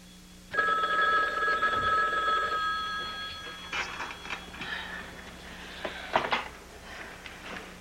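A telephone bell rings in a 1987 Quebec radio drama, one steady metallic ring lasting a couple of seconds and heard clearly alone, followed by quieter clattering and handling sounds as the receiver is picked up.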